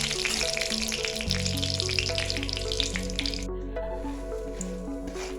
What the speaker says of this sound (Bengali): এবার এগুলোকে একটু ভালো করে নেড়ে চেড়ে ভেজে নিতে হবে